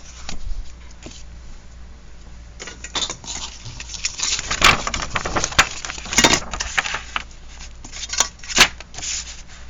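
Decorative paper is torn apart by hand in a run of close, scratchy rips and crinkles that come in bursts and grow louder toward the end.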